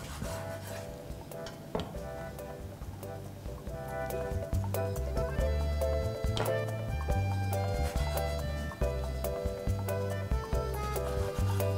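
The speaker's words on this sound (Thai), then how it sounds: "เราก็แค่หั่นครึ่งนะคะเป็นชิ้นพอดีคำ" A knife cutting pre-sliced three-layer pork belly into bite-size pieces on a board, with repeated sharp knocks and rubbing scrapes at an irregular pace, close and moderately quiet.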